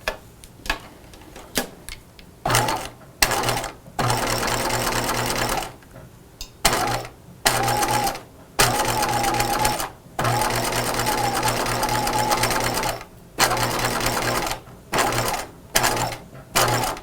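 A sewing machine stitches pajama fabric in repeated short bursts of rapid mechanical whirring, separated by brief pauses, close and clear.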